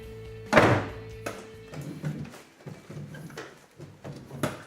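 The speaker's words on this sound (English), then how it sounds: "Shut car door." A solid thunk of a car door shutting rings out near the start, followed by quieter knocks and rustling shuffles.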